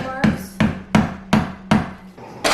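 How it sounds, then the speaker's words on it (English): Five sharp wooden knocks at a steady pace, each a close, firm thud, as the butt end of a hammer taps small pieces into holes in a wooden address plaque; no talk. "I'm going to use a hammer, but I'm using the butt of the hammer because I don't want the metal to leave any marks."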